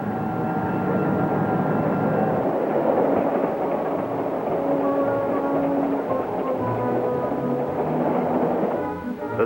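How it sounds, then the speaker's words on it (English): Deep, steady rumble and drone of the Super Chief's powerful diesel locomotive gathering speed on its westbound run, loud and sustained with faint tonal hums layered through the roar. "the powerful diesel locomotive. Slowly, surely, gathering speed to continue the westbound run."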